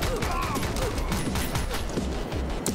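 Rapid gunfire in the John Wick Commute Simulator video game, a dense, loud stream of shots fired in quick bursts with no pauses, close and continuous throughout.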